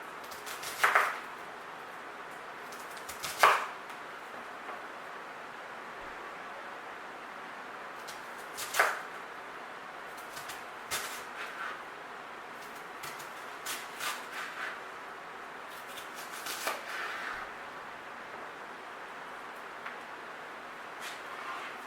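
A knife slices an onion lengthwise into strips on a cutting board, giving a handful of quiet, sharp chops spaced irregularly with faint soft cuts between them.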